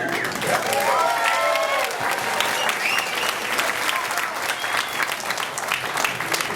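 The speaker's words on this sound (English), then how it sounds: "I heard a clap or two." Audience applause after a short song at a small-town variety show, a steady wash of many hands clapping for several seconds with a few faint voices and whoops mixed in.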